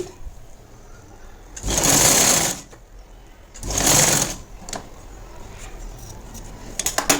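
A sewing machine stitches a plain blouse in two short bursts of whirring, each about a second long, with quiet pauses between them.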